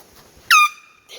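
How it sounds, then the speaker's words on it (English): A very loud air horn gives one sharp blast of about a fifth of a second, strong and tonal with stacked harmonics, then cuts off to near silence before faint background noise returns. "my friend has a very loud air horn"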